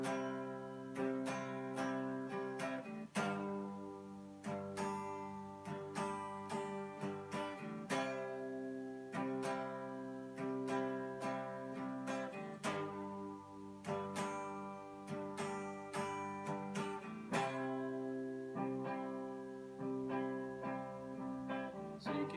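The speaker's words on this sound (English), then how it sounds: "So we'll start by looping the chord progression" A looped guitar chord progression cycling from a loop pedal, the strummed chords repeating in steady rhythm at moderate level with no talk.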